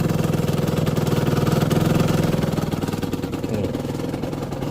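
A Gilera DNA scooter engine runs steadily after a fuel pump repair, a close, continuous mid-pitched idle with a regular pulsing rhythm that eases slightly toward the end, with no talk over it.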